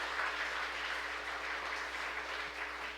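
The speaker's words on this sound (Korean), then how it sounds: "박수 한번 부탁드립니다." Congregation applauding in a church right after a new member is declared during a Korean Presbyterian Sunday baptism service; steady, fairly distant clapping from a crowd fills the whole stretch without any voices.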